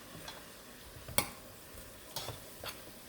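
A few scattered scrapes and clicks of a utensil mixing a white or brown vinegar marinade for pork pata in a bowl, with quiet gaps between strokes and one sharper knock near the middle.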